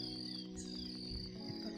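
Birds chirp and tweet steadily at dawn in a cool morning setting, a continuous layer of high calls over a low constant hum, fairly quiet and without talk.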